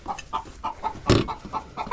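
A hen in a chicken coop clucks in a steady series of short, close calls, with one louder, broader squawk in the middle.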